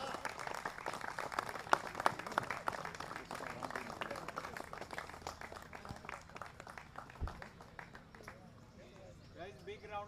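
Crowd applause for the ground staff at the final-day trophy ceremony of a cricket championship, dense clapping across the clip that thins toward the end, with voices mixed in.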